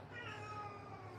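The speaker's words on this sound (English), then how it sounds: "Sorry if you can hear my cat crying in the background." A pet cat cries and meows steadily in the background of a quiet home, a faint, continuous wailing with no talk over it.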